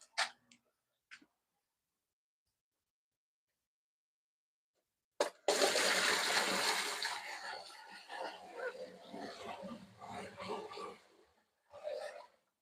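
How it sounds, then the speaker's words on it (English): Aquarium water poured out of buckets makes a loud, close rush lasting about six seconds after a long silence, with a few sharp clicks and knocks before and after. "So I'm gonna empty out these buckets"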